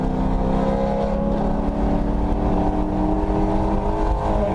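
Race car engine at Virginia International Raceway holds a loud, steady high-revving drone from start to finish, close and continuous with a slight pitch change as it shifts; no talking.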